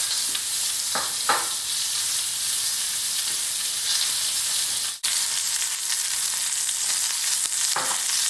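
A steak sears in a pan with garlic butter, giving a loud, steady, close sizzle throughout, broken by a few soft bumps and one sharp click midway.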